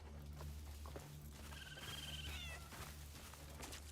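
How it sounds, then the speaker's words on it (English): A cat in the video game Crimson Desert gives a single drawn-out meow midway through, faint and slightly wavering, over a steady low droning background with scattered soft knocks. "Meow. Yeah, me too."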